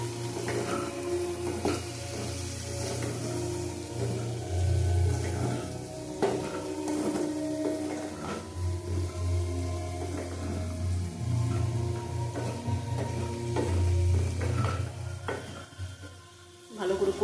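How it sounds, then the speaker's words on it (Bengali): Tomatoes sauté in a pan for aloo posto, a soft steady sizzle broken by scraping stirs and occasional clinks of a utensil against the pan, heard close and fairly quiet. "ভালো করে কষিয়ে নেবো টমেটোটা দিয়ে।"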